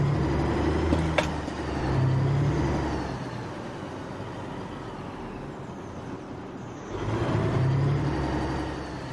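Truck engine and gearbox in the Alaskan Road Truckers video game, a steady low diesel drone that swells twice as the revs rise, with a sharp brief click early on.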